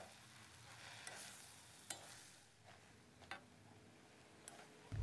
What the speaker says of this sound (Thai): แล้วก็ผัดให้เข้ากันเล็กน้อยนะครับ